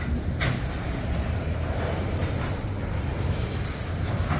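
A Canadian Pacific freight train led by locomotive 5032 rolls past in St Paul, Minnesota, with a loud, steady rumble and rhythmic clatter of wheels over rail joints, close by and without talk.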